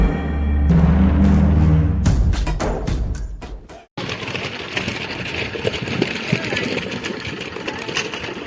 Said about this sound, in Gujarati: હવે ટ્રેક્ટર આવી ગયું છે।